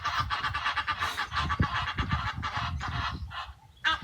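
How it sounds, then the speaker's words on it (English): Geese in Kenya honk repeatedly in a noisy, overlapping flock chorus at moderate distance, with a louder honk near the end. "this is the last you get to hear the geese"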